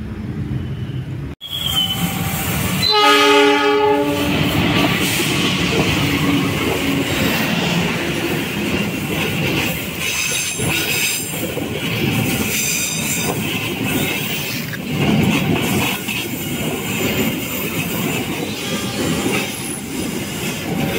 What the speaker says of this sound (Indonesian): Lintas kereta api Argo Parahyangan relasi stasiun Gambir menuju stasiun akhir Bandung.